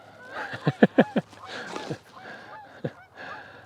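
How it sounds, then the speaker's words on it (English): Geese honking in a quick burst of four or five loud calls, then scattered single honks over faint background noise. "I'll wait for you to stop honking."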